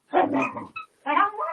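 Puppies bark in two quick yappy bursts close by, with a brief squeak between them.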